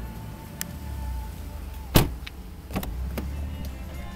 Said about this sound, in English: There's your sunroof.